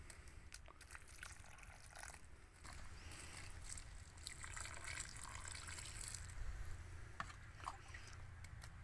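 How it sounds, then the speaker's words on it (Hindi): Water is poured from a glass onto freshly planted plum tree cuttings in an outdoor nursery. A soft, continuous splashing and trickling runs for several seconds over faint outdoor ambience. "गिलास की मदद से जो है हम पानी जो है वो इनमें अभी डाल रहे हैं।"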